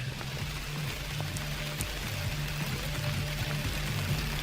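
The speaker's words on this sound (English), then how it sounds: "I'm going to end dramatically with the sound of rain." Heavy rain pours steadily outside a cabin, a dense, constant hiss with faint drips and a low rumble, without talk.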